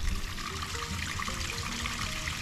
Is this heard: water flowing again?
yes